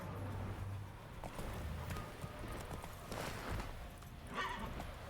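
Roach the horse in Witcher 3 galloping with a rapid rhythmic clip-clop of hooves and a whinny near the end, set against game ambience at a moderate level.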